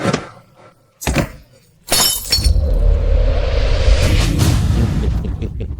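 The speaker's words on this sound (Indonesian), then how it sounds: "Antik berharga ini hancur begitu saja." A precious antique breaking: a sharp crash and glassy shattering, loud and close, then a sustained bright rush of debris and noise after quieter rustles and knocks.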